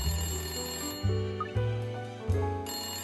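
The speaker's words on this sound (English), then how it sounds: "Yep, that's the phone." A telephone rings inside the detective puzzle game Layton Brothers: Mystery Room, with a bright electronic tone repeating in short bursts over a soft steady musical backdrop.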